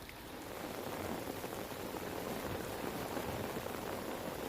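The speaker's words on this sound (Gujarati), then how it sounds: "વલસાડ અને આસપાસના વિસ્તારોમાં પણ વરસાદ જોવા મળી રહ્યો છે" Steady rainfall in Valsad district, Gujarat, a continuous even hiss of drops hitting surfaces, fairly soft and constant throughout.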